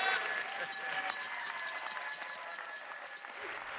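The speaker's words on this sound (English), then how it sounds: "ring this bell right here in celebration of his cancer-free diagnosis" A bell rung in celebration at the House well of a state legislature chamber, a bright, sustained metallic ringing with steady high overtones that carries through the whole stretch without pause.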